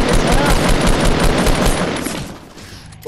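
Rapid automatic gunfire in the Fortnite video game rattles loudly in dense bursts for about two seconds, then drops away to quieter game sound.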